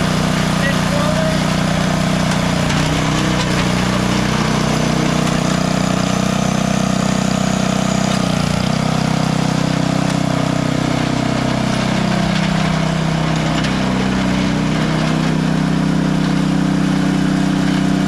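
A vintage small engine runs with its forward drive engaged, giving a loud, continuous close-up drone whose pitch dips and recovers a few times.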